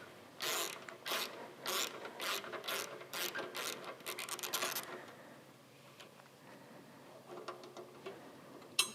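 Ratchet wrench with a hex bit loosening bolts on a Harley-Davidson Softail, a run of loud, rapid clicking bursts in the first five seconds, then quieter scattered ticks and light mechanical clinks.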